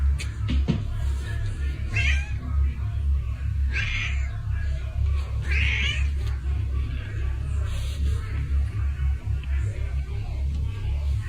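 A cat meows three times at a steady interval over a loud low rumbling background, the cries fairly faint and drawn out.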